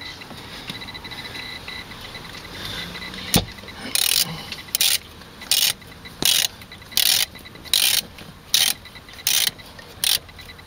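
Ratchet wrench tightening the battery terminal on a 2005 VW Touareg, a single sharp click, then a regular series of about ten close ratcheting bursts, evenly spaced, with no talk.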